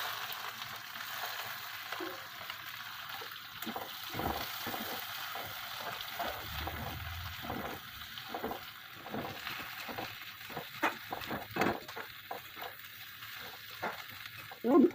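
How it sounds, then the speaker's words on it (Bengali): Onion and capsicum pieces frying lightly in oil, a soft steady sizzle with scattered clicks and scrapes of stirring, faint and close. "এবার তেলের মধ্যে সবজিগুলোকে একে একে হালকা করে ভেজে নেব"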